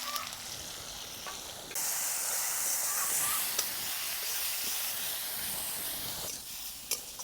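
Mustard seeds, curry leaves and green chili hit hot oil in an iron kadhai, and the hiss jumps suddenly louder then holds as a steady, close sizzle with a few faint pops.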